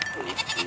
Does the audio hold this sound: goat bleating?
yes